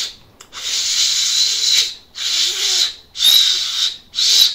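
Homemade whistle blown badly, giving a breathy, airy hiss with a faint thin tone, four or five separate breaths with short silent gaps, close and fairly loud, no speech.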